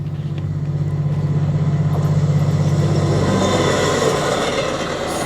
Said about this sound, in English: I added a second train passing so that it sounded like the train came and then actually went.